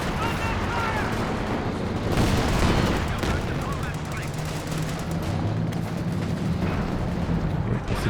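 Calliope rocket artillery fires in Company of Heroes 2 amid a dense, continuous roar of battle: rockets, gunfire and explosions blend into a loud wash, while a commentator talks over it.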